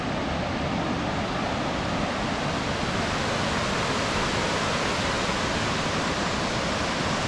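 A full-flowing mountain waterfall in the Caucasus of North Ossetia sends out a steady, loud, broadband roar of rushing water. The sound stays unbroken and even throughout, with no voices.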